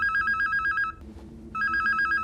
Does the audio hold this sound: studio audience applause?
no